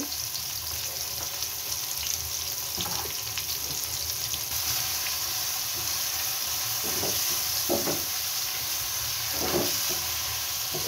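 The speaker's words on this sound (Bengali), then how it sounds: "পেঁয়াজটাকে আমি বেশি ভেজে নেব না, বাদামি কালার চলে আসলে আমি এখানে মশলা অ্যাড করে দিয়ে" Onions fry in plenty of oil for beef brain bhuna, a steady close sizzle and hiss running throughout with occasional soft stirring scrapes and no talking.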